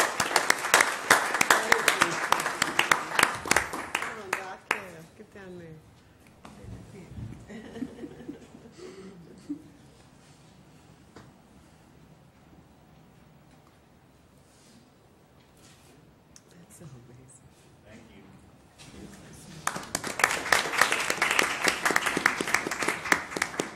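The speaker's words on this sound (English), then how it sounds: "Let's give Ms. Wallace and our talented scholars another round of applause." Applause breaks out at a school board meeting for a teacher and her students, loud clapping that fades to near quiet with a few chuckles and low voices, then swells again at the end.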